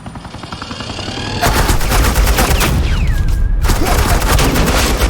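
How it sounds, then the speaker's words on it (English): Loud, sustained automatic gunfire laying down suppressing fire in the video game Batman: The Enemy Within, with rapid bursts after a brief lead-in, a pause, then more bursts, and a whooshing effect in the middle. "This is Agent Quinn, suppressing fire."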